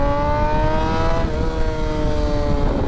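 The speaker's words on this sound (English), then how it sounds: "On a Super Sport, one little twist, look how small that twist is. I'm already giving it the throttle." Super Sport motorcycle engine revving under a small throttle twist, a loud, close, continuous engine tone that rises and dips in pitch over a rough low rumble.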